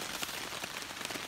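Rain pattering steadily on a green 20D Sil Poly hammock tarp, a dense, even wash of drops with no voices.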